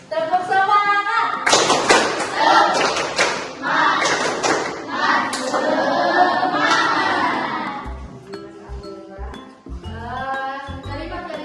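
A classroom of students performing tepuk semangat, a rhythmic spirit clap with loud bursts of hand claps and cheering voices, then a few sharp patterned claps toward the end.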